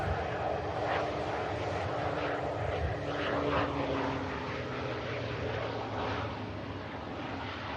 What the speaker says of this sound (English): We do love Pilatus aircraft